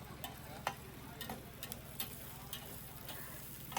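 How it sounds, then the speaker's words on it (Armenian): Ingredients fry quietly for Spanish paella, a soft steady sizzle broken by scattered light ticks and taps of stirring, faint and close without talk. "Այստեղ տապակում ենք"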